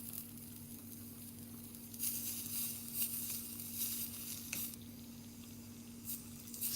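Steak and onions fry in a buttered pan, giving a soft, constant sizzle that swells into brighter hissing bursts now and then over a low steady hum, without talking.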